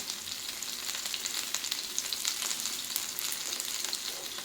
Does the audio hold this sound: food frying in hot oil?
yes